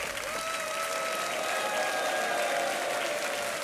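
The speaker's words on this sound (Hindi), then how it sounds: "तालियां बजती रहनी चाहिए देवी और सज्जनों" Studio audience clapping steadily for a game show contestant, a loud, even wash of applause sustained throughout, with faint tonal music lines running underneath.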